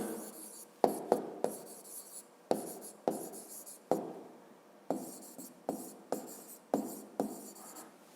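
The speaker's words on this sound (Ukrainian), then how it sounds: "Записуємо" A pen or pencil writes on paper in a quiet room, with a series of sharp scratchy strokes, each starting crisply and trailing off, close up with short pauses between marks.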